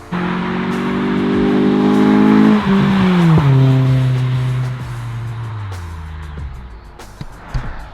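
An Acura RSX base model's deep HKS Hi-Power exhaust grunts and revs up close, then the engine note drops and fades as the car pulls away.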